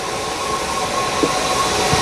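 A train rolls along the rails with a steady rumble and hiss, close and even throughout, with faint clanks from the wheels and no voices.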